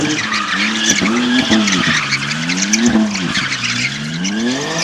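Car tires screech steadily through a burnout at an abandoned military base, the squeal wavering in pitch under a loud revving engine, close and continuous throughout.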